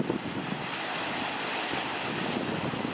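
Atlantic Ocean surf and wind along the shore at Marblehead, Massachusetts, a steady broadband wash with wind rumbling against the microphone, continuous and fairly loud throughout with no speech.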